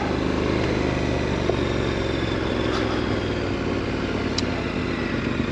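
A KTM 1090 Adventure motorcycle being ridden, its engine a steady, dense roar mixed with wind rush, constant and close throughout with no break.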